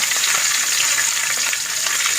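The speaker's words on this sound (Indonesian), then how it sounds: "Di sini saya udah panasin minyaknya. Lalu saya goreng dulu bawang merahnya" Shallots frying in hot oil in a pan for an Acehnese fish stir-fry, giving a loud, continuous, close-up sizzle with no talking.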